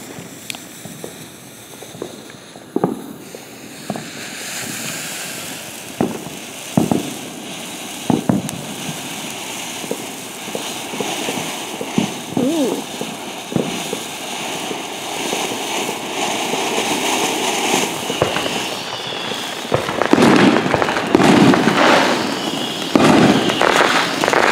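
Fourth of July fireworks, including silver sparkle shells, crackle and pop in repeated bursts over a steady outdoor hiss, growing denser and louder toward the end.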